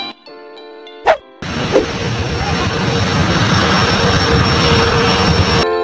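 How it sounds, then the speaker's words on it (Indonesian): A Boeing VC-25 presidential jet, the Air Force One, produces a loud, steady roar of jet engines that swells and holds for several seconds after a brief musical passage and a couple of sharp knocks. "nomor 5 Boeing VC-25 Amerika Serikat"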